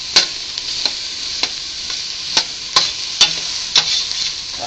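Minestrone vegetables are stirred in a pot over lowered heat, a gentle steady sizzle with a spoon scraping the bottom in evenly spaced strokes, close by.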